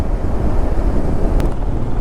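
Strong coastal wind gusting over sand at Dhanushkodi, roaring steadily into the microphone as a continuous loud buffeting rush with no voices.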